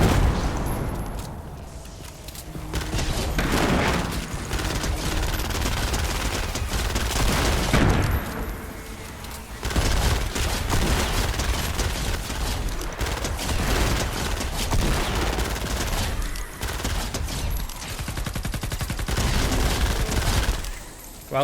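Rapid weapon gunfire in the video game Fortnite Save the World, loud, dense bursts of shots with booming impacts running almost continuously, with brief pauses between volleys and no talk over it.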